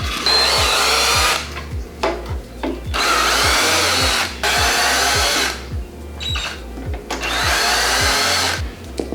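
A power drill removing worn bolts while replacing a mower bedknife whirs in three long bursts separated by pauses filled with clanks and metallic handling, loud and up close.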